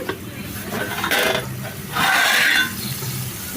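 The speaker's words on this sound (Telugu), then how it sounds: "రెండు నిమిషాల తర్వాత ఒకసారి మూత చూద్దాం" A lid comes off a pot of simmering cabbage tomato curry: a short muffled scrape, then a few seconds of steady steamy hiss and bubbling, close and moderately loud.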